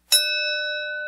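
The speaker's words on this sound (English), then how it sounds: "this is an actual old-school simplex bell" An old Simplex school bell is struck once with a hard metal hammer, giving a bright clang that rings on with a steady, pure tone.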